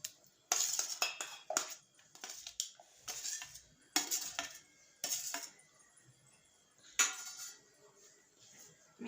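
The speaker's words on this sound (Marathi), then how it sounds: "हे सगळे मी मिक्सरच्या भांड्यात टाकते" Chikoo pieces, milk and powdered sugar are dropped into a steel mixer jar in a home kitchen. Each addition makes a sharp clink or clatter, in irregular bursts separated by quiet gaps, with no talk.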